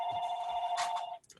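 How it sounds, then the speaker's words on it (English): A telephone rings with a steady electronic tone for about a second, then cuts off, moderately loud in a quiet room. "Apologies for the phone."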